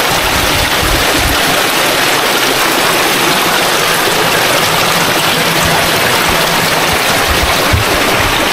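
Powerful rushing stream water roars steadily throughout, a loud, dense, continuous wash with no voices.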